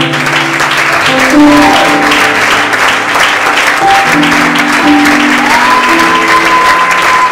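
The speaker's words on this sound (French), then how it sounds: "Est-ce que nous pouvons encore acclamer?" A church congregation claps loudly and continuously, a dense, close wash of applause with sustained sung or spoken tones rising above it throughout.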